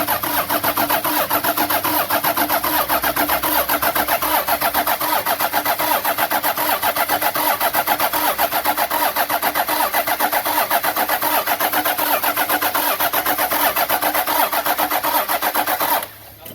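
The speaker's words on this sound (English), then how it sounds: "Okay, so we're just going to start cranking." A Toyota 60 series with a 2H diesel engine cranks steadily on the starter for about sixteen seconds, a loud, close, continuous rhythmic churning that never catches, then cuts off abruptly.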